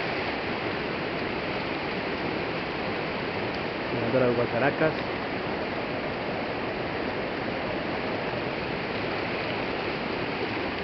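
The Meléndez river in Cali, Colombia flows near its intake weir in a steady broadband rush of water. A brief spoken phrase cuts in partway through.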